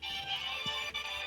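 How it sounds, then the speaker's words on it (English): Phone ringtone during an incoming call: a steady, faint electronic tone held across the moment, with no talk over it. "Oh, phone call."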